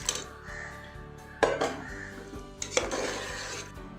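Curd rice being mashed and mixed with milk in a bowl, close spoon scrapes and clinks against the bowl in a few distinct bursts over a faint background hum.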